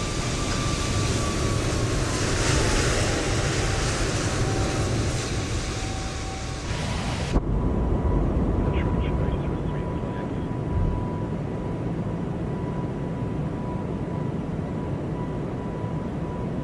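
Synaptic Airbus A220-300 in Swiss Air livery climbing out of Zurich in Microsoft Flight Simulator 2024, a loud steady jet engine roar with a whining tone that shifts, then an abrupt drop to a quieter sustained rumble.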